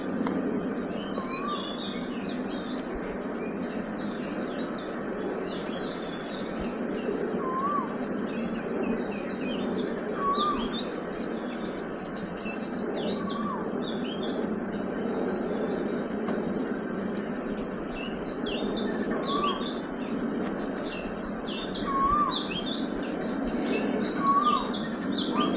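An Asian koel calls from among roadside trees at Ancient City in Bangkok, its short rising notes repeating every few seconds, fairly distant, over a steady, dense outdoor hum.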